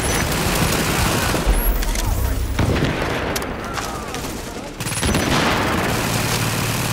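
Rapid turret gunfire in the shooter game The Division, dense bursts of shots rattling almost without pause, loud and close, with a brief dip in the middle before the firing resumes.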